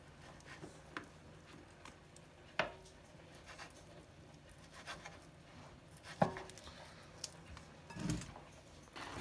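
A knife chops pitted fruit into small pieces on a board for kutia, with faint, sparse, irregular taps spaced seconds apart against a quiet background.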